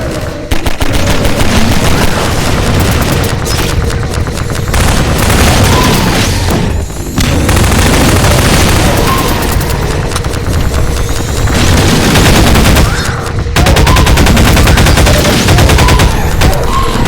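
Dense gunfire in the Half-Life 2: Episode Two shooter, loud sustained rattling bursts and booming shots layered continuously with brief gaps, no talking.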